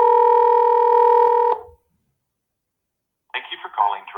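A phone call placed through Google Voice to a business line rings with a loud, steady two-tone ringback for about a second and a half, then cuts to silence before a recorded voice answers.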